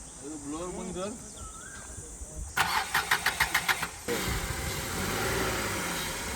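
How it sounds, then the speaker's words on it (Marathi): A car is jump-started after being pushed by hand near a beach on the Konkan coast. Voices come first, then the starter cranks in rapid regular pulses before the engine catches and settles into a running idle. "आता जम्प स्टार्ट करायला आले एकदम."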